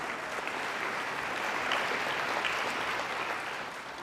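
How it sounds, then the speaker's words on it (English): An audience claps for students' singing at a National Flag Day event, a steady full round of applause that holds for several seconds and eases off slightly at the end, with no speech over it. "let's give our students another big round of applause for their beautiful singing"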